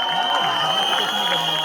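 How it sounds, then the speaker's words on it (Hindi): A crowd at a Delhi film event for Thamma cheers and applauds in a dense, loud, continuous roar, with shrill tonal whoops riding on top. "एक बार तालियां बजाओ."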